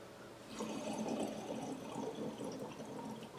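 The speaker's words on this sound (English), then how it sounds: "So first you can bubble in a constant rate, then change the bubbling rate on will." Close, continuous bubbling as breath is pushed through a tube into water in Lax Vox therapy, voice silent, the gurgling rate shifting slightly over the few seconds.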